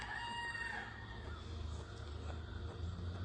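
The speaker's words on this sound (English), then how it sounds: "that rooster don't bother me much" A rooster crows at a distance and fairly faint, its long call rising over a steady outdoor background hum, with no voices.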